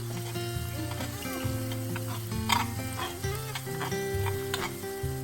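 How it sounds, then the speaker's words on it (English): Eggs being scrambled with salt and pepper in a pan, a steady close sizzle with scraping and stirring clatter, while tonal background sounds drift underneath. "we put the ملح and فلفل, and then we start to scramble them"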